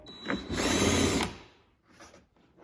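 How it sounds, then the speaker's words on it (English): A drill buzzes in one short burst through a plastic fender flare on a Can-Am Defender, then winds down, leaving a quieter hum and faint mechanical rattling afterward. "Drill through the flare's open hole."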